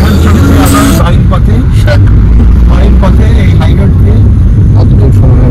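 Highway traffic rushes by during a motorbike ride, with large vehicles passing on a fairly empty road under a loud, constant wind-and-engine roar, a few sharp bursts as vehicles go by, and muffled voices talking beneath it.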